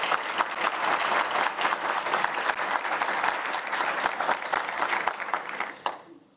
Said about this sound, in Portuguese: Receba com salva de palmas, Vilma da Conceição Pinto.